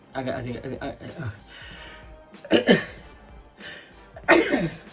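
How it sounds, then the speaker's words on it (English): A single sharp sneeze bursts out after a stretch of low murmured voice, followed by another short explosive burst near the end, close to the microphone. "Bit of a sneeze."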